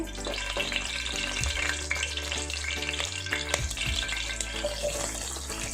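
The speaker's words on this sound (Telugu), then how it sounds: "వేడెక్కిన నూనెలోన ఉల్లిపాయలు, 3 ఉల్లిపాయలు కోసుకొని వేసుకున్నానండి." Three chopped onions dropped into hot oil for a goat head curry, a dense close sizzle and crackle with occasional stirring knocks, steady throughout with no talk.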